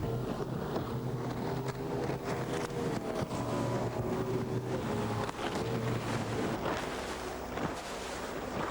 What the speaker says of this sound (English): riding the bow waves left behind the speedboat